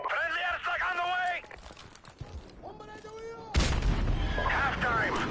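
Explosions from a friendly airstrike in Call of Duty: Modern Warfare Remastered: a loud broadband blast lands midway and sustains a heavy rumbling roar, with game voice chatter and gunfire-like crackle before and over it.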